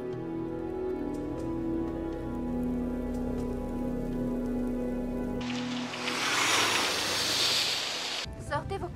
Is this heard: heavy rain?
yes